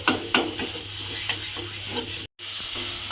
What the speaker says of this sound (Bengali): আবারও কিন্তু সমস্ত মশলাগুলো খুব ভালোভাবে মিশিয়ে নিতে হবে। নিয়ে একটু ভাজা ভাজা মতো করে নিতে হবে।